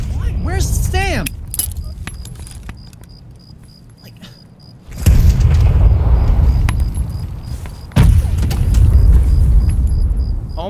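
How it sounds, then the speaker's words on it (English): Grenade explosions in Escape from Tarkov, two heavy booming blasts a few seconds apart, each sustaining a broad rumbling roar, with people talking loudly over the earlier part. "Oh my god, there's so many grenades."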